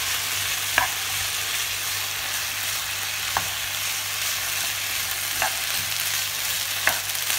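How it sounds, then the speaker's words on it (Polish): Vegetables, mushrooms and asparagus sizzle steadily while stir-frying in a hot pan, with a few brief scraping stirs at intervals and no voices. "Całość mieszamy i jeszcze przez chwilę smażymy."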